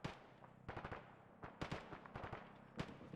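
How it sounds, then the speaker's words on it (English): Explosions and impacts in the Arma military video game, a rapid series of sharp bursts, some close and loud and others more distant, with no voices between them. "Oh, that explosion on me."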